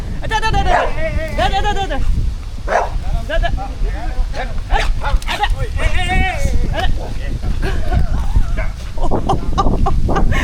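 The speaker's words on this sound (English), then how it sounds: "I really like dogs and I thought he was playing" A dog barks repeatedly and comes closer on a reef outing, loud sharp barks in irregular bursts mixed with chicken-like clucking, while people talk throughout.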